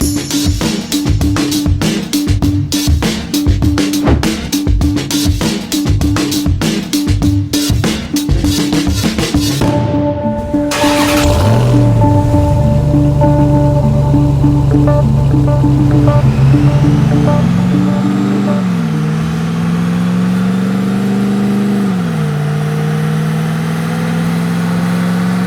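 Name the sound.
Dodge RAM TRX engine revving on a dyno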